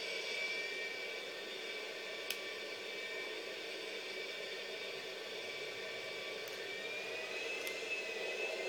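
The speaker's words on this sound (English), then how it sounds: "I'm just driving around the plane on the ground." Jet airliner in GTA 5 taxiing along the ground at an airport, giving a steady roaring whine with a high tone, continuous and fairly loud throughout, with a couple of brief clicks.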